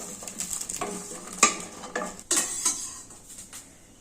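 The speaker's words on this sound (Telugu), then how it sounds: "ఇంతవరకు పోపు వేసుకుందాం." Spices are tempered in oil in a pan with a light sizzle, while a metal spoon clinks and scrapes against the pan in several sharp, close knocks.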